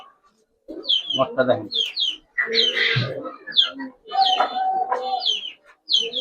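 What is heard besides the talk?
giribaz pigeons cooing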